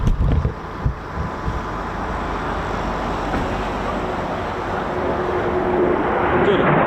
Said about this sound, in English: Here comes the Typhoon into the circuit